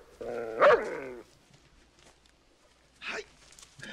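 A dog in the 1982 film The Beastmaster gives a single loud, harmonic bark with a growling edge, followed by quieter movie sound and a brief faint noise later.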